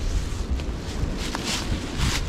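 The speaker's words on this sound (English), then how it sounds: "It's quite windy today, so the other hammocks are blowing all over the place." Gusty wind outdoors among hammocks slung in the open, buffeting the microphone in irregular rushes and soft roars, with faint rustling and no voices.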